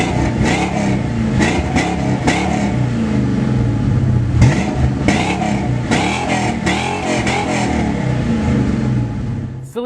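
A Saleen S281 muscle car engine revs repeatedly, sharp throttle blips punching out over a rumbling idle in a close, loud burst pattern.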